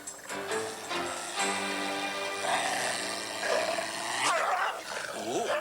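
Dogs bark and growl at a gate amid dense music and effects, the barks fairly close and loud, with a voice briefly heard among them.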